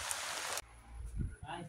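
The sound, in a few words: heavy rain falling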